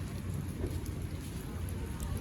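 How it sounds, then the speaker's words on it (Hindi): Light rain falling steadily, a soft continuous hiss and patter with low rumbling background, no talk. "और वापसी पे फिर बारिश स्टार्ट हो गई थी हल्की हल्की"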